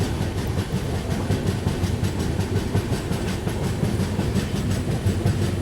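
A Central Railways LHB coach on a superfast express runs along the tracks, a loud, continuous rumble with a steady rhythmic clatter of wheels, heard close and without voices.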